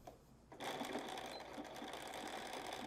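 A Bernina 535 sewing machine straight-stitches fabric, its steady rapid motor whir and needle clatter starting abruptly and running continuously at close range.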